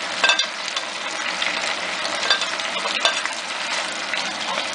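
Tomatoes, carrot and onions frying in a pan for a Spanish-style vegetable stew, a steady close sizzle with a few stirring scrapes and clicks, no talk.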